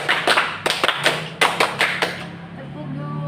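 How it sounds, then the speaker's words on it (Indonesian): Schoolchildren in a group counseling session clap in a short burst of ragged, overlapping claps, close and loud, fading into a voice and quiet room sound. "Tepuk 1."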